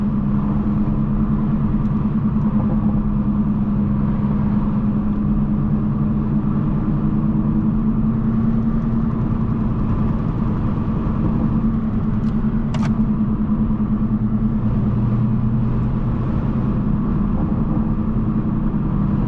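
A 500 hp Toyota Supra cruising on a road, a steady low engine drone and tyre rumble heard from inside the car, constant and loud, with one brief click partway through.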